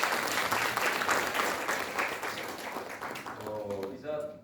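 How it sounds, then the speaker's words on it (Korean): Encouraging applause from the audience at a policy debate forum on founding a North Korean human rights foundation, dense hand clapping that fills the room and fades out as a voice begins speaking. "우리 김태훈 회장님 향해서 격려의 박수 한번"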